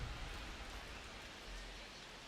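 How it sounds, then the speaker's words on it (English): Steady rain falls over a baseball game in MLB The Show 25, a soft continuous hiss with no voices over it. "This rain is not letting up"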